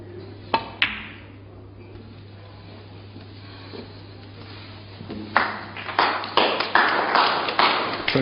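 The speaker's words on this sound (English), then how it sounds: "Well, applause from the audience" Snooker crowd applause rises after a shot in a John Higgins versus Steve Davis match at the 2012 UK PTC 4, a sustained burst of many hands clapping in the hall that follows a few sharp ball clicks and a quiet stretch.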